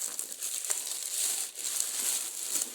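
A plastic bag is handled and opened close up, producing continuous loud crinkling and rustling with no pauses, and no voices heard.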